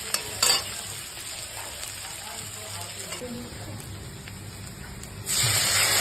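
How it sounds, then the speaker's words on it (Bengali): Chopped onions frying in a little oil in a pan, a steady close sizzling hiss throughout with light stirring clatter, swelling louder near the end. "পেঁয়াজ কুচিটাকে একটুক্ষণ ফ্রাই করব টিল দ্য কালার চেঞ্জেস"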